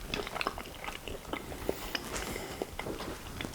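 Someone bites into and chews a healthy General Tso's chicken coated with sesame seeds, producing close, crisp crunches in an irregular rhythm over a quiet background.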